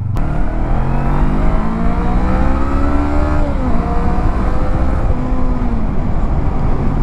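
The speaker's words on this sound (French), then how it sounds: "J'adore ce moteur souple et un peu coupleux quand même pour un petit 500." A 2019 Honda CB500X 500 cc motorcycle engine pulls strongly under acceleration, its loud, steady drone climbing in pitch, easing briefly for a shift, then rising again, close and continuous.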